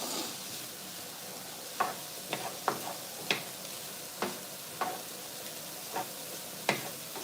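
Quick vegetable stir fry in a pan, a soft steady sizzle under a string of sharp irregular clicks and scrapes as the food is stirred around, fairly quiet and close with no talking.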